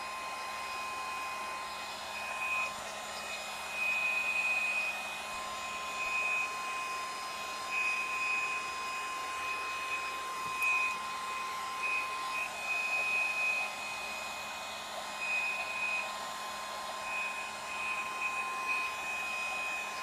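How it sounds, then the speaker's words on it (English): A heat gun blows hot air onto watercolor paper, giving a steady, even whooshing drone with a thin high whine that runs unbroken for about twenty seconds, close and with no talking. "Now it's a heat gun and not just a blowing air."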